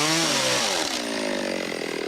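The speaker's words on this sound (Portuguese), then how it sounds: "E apesar do uso da motosserra, que sempre desperta na gente uma ideia de violência, o trabalho exige muita delicadeza." A loud chainsaw whines steadily close by as it cuts through wood around a native stingless bee nest, its pitch sliding as the engine load changes.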